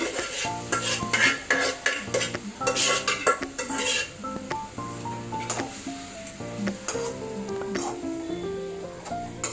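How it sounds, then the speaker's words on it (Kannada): Greens and lentil mix added to a pan and stirred, with clattering utensil knocks and scrapes against the pot over a background of music-like tones. "ಸೊಪ್ಪು ಬೇಳೆ ಮಿಕ್ಸ್ ಮಾಡಿ ಇಟ್ಕೊಂಡಿದ್ದಲ್ಲ ಹಾಕ್ಕೊಳ್ತೀನಿ"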